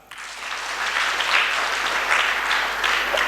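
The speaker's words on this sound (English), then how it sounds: "Can we clap for her?" Applause from an audience at a formal hearing session: dense, steady clapping that starts abruptly and holds at a fairly even level for the full few seconds, with no voices over it.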